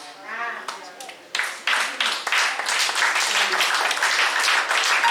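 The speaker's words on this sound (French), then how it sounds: "Oh, que quelqu'un acclame." Church congregation breaking into applause during a sermon, starting after a brief voice and swelling into steady, dense clapping that fills the room.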